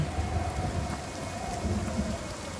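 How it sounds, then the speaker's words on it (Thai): Heavy storm rain hisses steadily in the game Last Day of June, with dense pattering and a low rumble of wind underneath, constant and even throughout. "พายุเข้าอย่างนั้นเหรอ"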